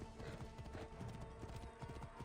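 Horse hooves pound in a rapid galloping rhythm in Assassin's Creed Origins, a steady dense clatter running throughout against a busy game soundscape.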